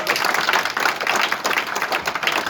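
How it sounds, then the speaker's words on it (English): An audience at a business presentation claps in a dense, continuous patter that stays fairly loud and even throughout, with no voices rising above it. "Oh, clap for this one."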